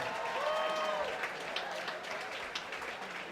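Crowd applause and cheering in a hall after a K-1 rules kickboxing bout in Brighton, Sussex, a steady wash of clapping, fairly distant, with some voices shouting within it.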